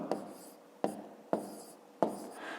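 Pen writing numbers by hand on paper: four short, distinct strokes with scratchy onsets and brief trailing rubs, quiet and close, with no talking.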